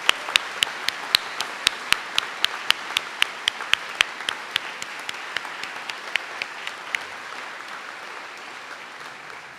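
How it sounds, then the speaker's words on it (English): Sparse, sharp claps ring out one by one at a steady rhythm at a medical school white coat ceremony, thinning toward the end over a quiet background hum. "let's give them a big round of applause"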